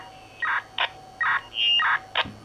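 A quick burst of short electronic roger beep tones from a Motorola GP328/GP338 radio, several chirpy beeps in rapid succession, clear and fairly close over a faint background hiss.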